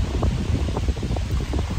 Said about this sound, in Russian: потому что ветер бешеный